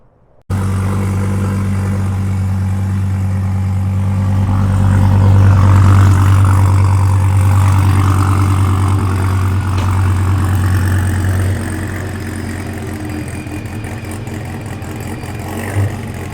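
A 1000whp Procharger F1X supercharged Gen 5 Dodge Viper fires up after brief silence and settles into a loud, deep, lumpy idle close by, swelling briefly in revs around the middle before easing back to a steady rumble.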